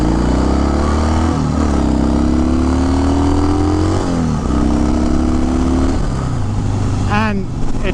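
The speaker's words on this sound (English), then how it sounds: "It has the classic Harley Davidson sound" A 1974 Harley-Davidson Sportster Ironhead XLCH runs loud and close, its engine note climbing and dropping through several rev rises and gear changes for the whole stretch.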